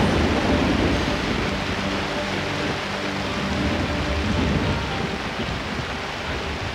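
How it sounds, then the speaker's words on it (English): Heavy tropical downpour falling on Borneo jungle, a steady, dense roar of rain close by and loud throughout, with no voices. "The sky opens, bathing the jungle with yet another downpour."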